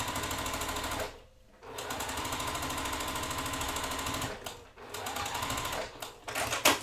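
Domestic sewing machine stitching quilt top rows together in steady fast runs, a loud rapid whir that stops briefly twice before restarting, with no talk.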